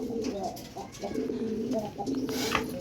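Pigeons cooing close by in repeated low, throaty rolling calls that overlap continuously, with faint background noise underneath.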